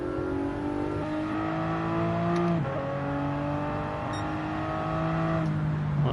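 A car lapping a race track, its engine droning loudly and steadily, pitch rising and falling through gear changes with a sharp drop around a corner before climbing again, heard from inside at close range.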